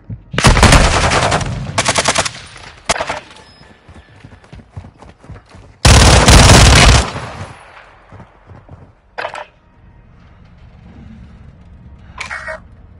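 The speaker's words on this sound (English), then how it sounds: "Taking effective fire!" Bursts of rapid automatic gunfire in a shooter video game, loud and close, two long volleys separated by scattered single shots and shorter bursts, with no talking.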